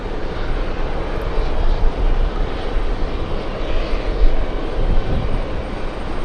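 A JetBlue airliner's engines roar at JFK airport as a loud, steady, broadband rumble that fills the whole stretch without letting up.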